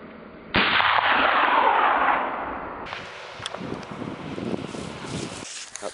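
A single gunshot fired outdoors, shot far out across open ground, a sudden loud boom that rolls off slowly, followed by windy background noise and a second softer crack.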